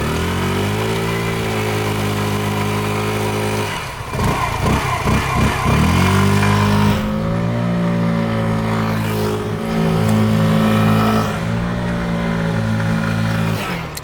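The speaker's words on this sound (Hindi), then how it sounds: "स्कूटर आपके साइड से निकलता है तो फ्लाई बाइज में आवाज कैसी" A Hero Xoom 125cc scooter engine hums steadily, sputters briefly, then revs and rises in pitch as it passes close by, staying loud throughout.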